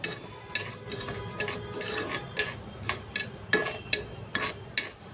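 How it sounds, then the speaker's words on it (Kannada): Urad dal roasting in a pan, with a utensil scraping and stirring in a steady rhythm of about a dozen short metallic strokes over a soft background sizzle, fairly close. "ಉದ್ದಿನ ಬೇಳೆಯನ್ನು ಸ್ವಲ್ಪ ಹುರ್ಕೊಳ್ಳೋಣ ಸ್ವಲ್ಪ ಕೆಂಪುಗಾಗೋವರೆಗೂ"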